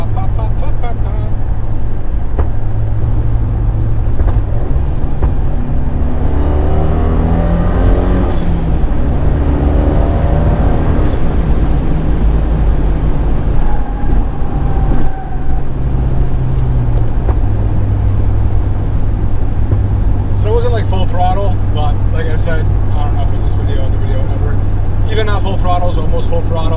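Fiat 124 Spider engine with a camshaft issue, heard from inside the car, droning steadily and rising in pitch as the throttle is applied, then settling back, with someone talking near the end.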